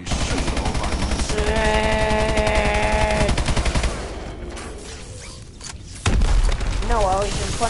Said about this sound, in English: I was in front of the sentry gun